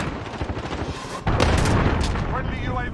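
Explosions from an allied cruise missile strike in the Modern Warfare video game, a dense, loud barrage of booms and blasts that swells suddenly a little over a second in and keeps rumbling continuously to the end.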